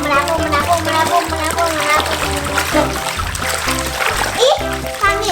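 Water splashes and sloshes in a bathtub as Gelli Baff powder is stirred in, a steady busy wash of splatter with children's voices chattering over it throughout.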